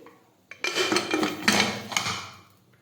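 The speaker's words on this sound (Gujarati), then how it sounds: "હવે આપણે કુકરનું ઢાંકણ છે તે બંધ કરી દઈશું." A metal pressure cooker lid clatters and scrapes against the pot rim as it is fitted and twisted shut, close by, lasting about two seconds.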